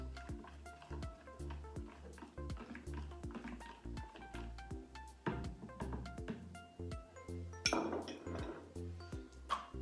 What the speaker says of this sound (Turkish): Sonra bulaşık deterjanımızın suyumuzla tamamen karışması için şöyle bir karıştırıyoruz.